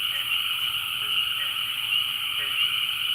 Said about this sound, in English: listen to the frogs